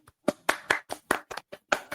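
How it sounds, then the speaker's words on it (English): A few hands clap in short, uneven bursts, about eight sharp claps over two seconds, close and dry, opening a wrestling podcast episode with no talk over them. "Clap it up."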